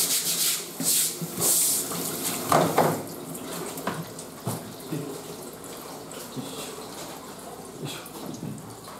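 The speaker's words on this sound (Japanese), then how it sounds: "一回まな板洗って" Tap water runs into a sink while a cutting board is washed during anglerfish sashimi preparation: a close, steady splashing flow broken by scrubbing rubs and a few knocks of the board.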